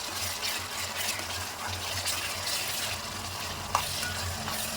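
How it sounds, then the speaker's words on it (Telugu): Ginger-garlic paste fries and gets stirred in a pot for a hotel-style mutton gravy curry, a loud, steady sizzle with scraping stir strokes and one brief sharp clink near the end, and no one talking. "అల్లం మాడిపోకుండా ఫ్రై చేసుకోవాలి"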